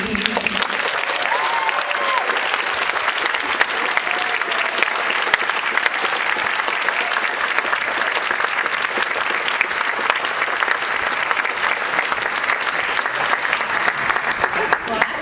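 Sustained applause from an audience at an awards ceremony after a sung song, dense steady clapping with some crowd noise throughout, no pauses.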